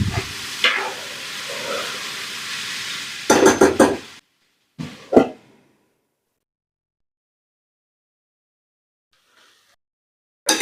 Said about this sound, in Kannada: ಈಗ ಒಂದು 2 ರಿಂದ 3 ನಿಮಿಷ ಚೆನ್ನಾಗಿ ತರಕಾರಿನ ಫ್ರೈ ಮಾಡ್ಕೊಂಡಿದ್ದೀನಿ.